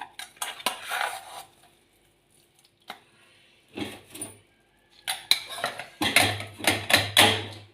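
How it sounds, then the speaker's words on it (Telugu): Tomato being stirred into eggplant chutney in a pan, heard as clinking, scraping spoon-on-pan strokes in short bursts with quiet gaps between, close and moderately loud. "దీంట్లోకి ఇప్పుడు టమాటా వేసేసి తిప్పేసేది"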